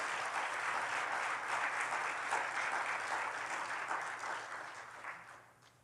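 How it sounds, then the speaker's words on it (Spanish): Sustained applause from a church congregation during a sermon, a dense wash of clapping that holds steady, then tapers off near the end. "Dele fuerte el aplauso a Cristo."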